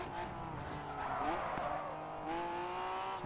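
In the GRID 2 racing game, a race car loses its rear end and skids, its engine droning steadily beneath continuous tire squeal with shifting pitch, while a voice talks faintly underneath.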